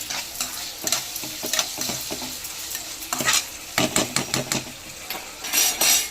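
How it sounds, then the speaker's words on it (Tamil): Onion-tomato masala with salt sautéed in a pan for crab gravy, with a steady oily sizzle and repeated scraping, clinking stirs of a spoon against the pan, close and alone. "போட்டு கொஞ்சம் நல்லா வதக்குவோம்."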